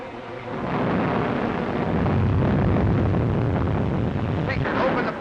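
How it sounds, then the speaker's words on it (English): A heavy storm at sea rolls on steadily, with a continuous dense roar of rain and thunder that holds for the whole stretch without a break. "Looks like a storm."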